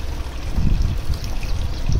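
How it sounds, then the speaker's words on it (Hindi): Coolant, mostly water, trickles and pours out of a pulled hose on a Maruti Alto 800 during a paid service at 1 lakh km, a steady close liquid gurgle with low splashing throughout and no talk. "कूलेंट भी हम इसका ड्रेन करेंगे"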